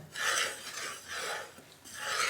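Gram flour (besan) being roasted in a pan for besan barfi, stirred with a spatula: repeated loud rasping scrapes in three long sweeps, close up and with no voices.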